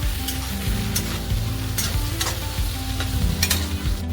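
Okra masala coated in gram flour stir-fried with a spatula in a pan, a steady sizzle with repeated scraping and stirring strokes throughout, close and alone.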